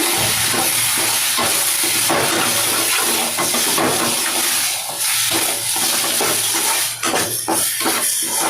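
Mint and coriander sautéing for a tomato kurma, a dense continuous hiss and sizzle with occasional stirring and pan clatter, close and loud throughout with no voices.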